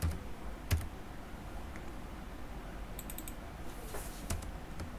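Someone types code on a computer keyboard in quick, close, light clicks. A couple of sharper key strikes and short bursts of rapid typing stand out, and no one talks.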